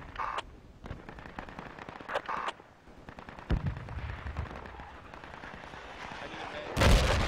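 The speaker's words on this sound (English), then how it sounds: "Those are good mortars." Mortar rounds in the military shooter Project Reality, scattered booming impacts and blasts of varying distance, with a loud heavy hit near the end over battlefield rumble.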